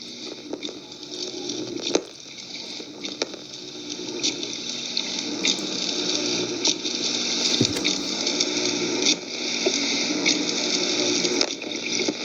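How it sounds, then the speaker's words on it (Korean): Artificial waves wash through a laboratory wave tank over a bed of sand-sized particles, giving a continuous watery rush with a few faint knocks and splashes across it. "이렇게 인공 파도를 만들고 있습니다"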